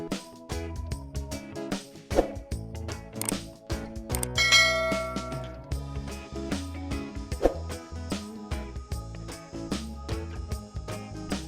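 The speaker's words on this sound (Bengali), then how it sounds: "আমরা চিকেনগুলো প্রথমে 5 মিনিটের জন্য নেড়েচেড়ে রান্না চালিয়ে যাব" Chicken being stirred in a metal cooking pot for Bengali chicken polao, with repeated clanging and scraping of the spoon against the pot in an irregular rhythm, fairly close.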